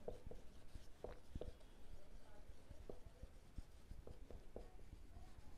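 Pen scratching across paper while a journal entry for share capital is written out in a class 12 accounting lesson, a steady run of soft, close strokes and taps with no talk.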